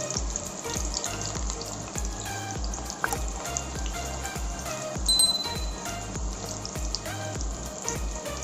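Spinach pakodi batter fries in hot oil with a continuous busy sizzle and bubbling crackle, broken by occasional light clinks of a utensil, over a low rhythmic background.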